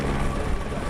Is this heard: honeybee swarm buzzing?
no